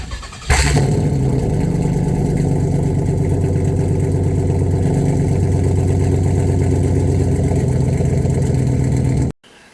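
A 2007 Pontiac Grand Prix GXP with its LS4 V8 idles steadily nearby, a loud, even low rumble holding for about nine seconds before cutting off abruptly.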